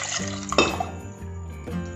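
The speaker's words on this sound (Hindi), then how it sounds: "इसके लिए सबसे पहले दही को हम ग्राइंडर जार में डालकर फेंट लेते हैं।" Yogurt and water are blended in a grinder jar, with short clinking and sloshing knocks and a low mechanical whir in bursts, moderately close with no talking.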